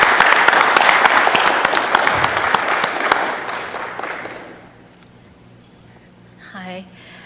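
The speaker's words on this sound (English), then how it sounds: "if we could just give her a round of applause" Audience applause at a city council special meeting: dense, steady clapping for about four seconds that thins and fades out, followed by a short stretch of quiet room tone and then a brief voice.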